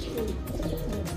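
Pigeons coo in soft, low, rolling calls, close and continuous amid a steady ambient background with no talking.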